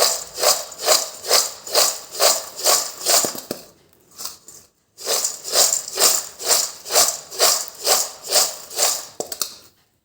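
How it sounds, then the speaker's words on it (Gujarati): Dry sabudana farali chevdo being tossed with salt in a bowl, giving a loud, steady run of rhythmic scraping, rustling strokes that pauses briefly midway, then resumes, with no voices. "બીજી એડ કરી મીઠું પણ એવી રીતે થોડુંક એડ કરવાનું બધું સરસ મિક્સ કરી લેવાનું"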